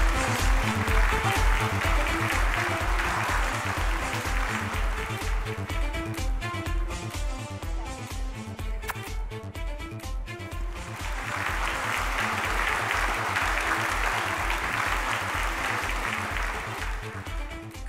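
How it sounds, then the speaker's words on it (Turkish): An audience at a digital media awards ceremony in Turkey applauds as a career achievement award winner walks on stage, steady loud clapping over rhythmic pulsing music that dips and then swells again. "Alkışlarınızla sevgili Banu Noyan sahneye geliyor."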